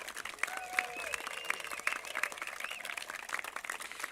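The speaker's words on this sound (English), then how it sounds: "Let's get one more big round of applause for Dr. Greg" Audience applause and cheering at a 2022 high school graduation ceremony, a steady wash of clapping with bird-like whistles and calls standing out above it, fairly distant and even throughout.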